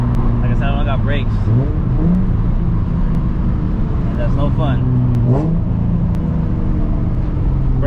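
A turbocharged 800 whp Nissan 350Z revs hard while driving, its engine climbing and dropping through repeated pulls with a loud, steady rumble inside the cabin, while someone talks over it.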